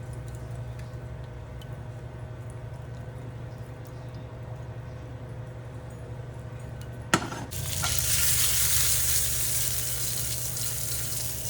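Egg masala fries in a pan with a soft, steady sizzle and low hum, then a clatter of stirring brings a louder, hissing burst of frying.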